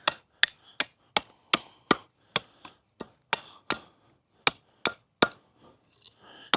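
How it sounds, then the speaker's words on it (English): A Worktuffgear ARES knife chops into a piece of wood to shape a quick tent stake. About fourteen sharp, close woody knocks land in a steady rhythm, and the last few are softer and more spaced. "if you had to make a quick little tent stake, just do some little chops right here."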